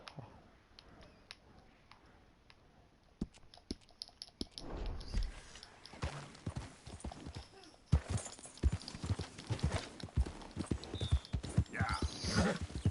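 Horse hooves in Red Dead Redemption 2 clip-clop along at a steady walk over an uneven surface, close by, with scattered thumps and a faint snort-like noise.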